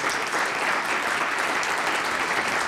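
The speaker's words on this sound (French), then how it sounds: "Je vous demande de les applaudir." Conference attendees applaud the speakers with continuous, even, dense clapping from a large crowd throughout.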